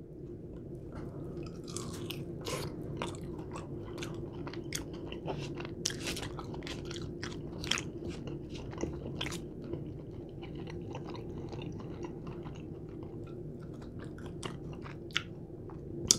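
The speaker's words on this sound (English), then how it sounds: "as I'm chewing on this side, it's taking me longer to eat nowadays" Lemon pepper and hot honey chicken wings are chewed close to the mic, giving steady wet mastication with frequent crisp crunches and small bites over a constant low background hum.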